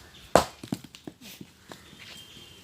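A clod of soil is smashed to break it: one sharp, heavy thump up close, followed by a scatter of smaller, softer knocks as pieces fall, with no talking.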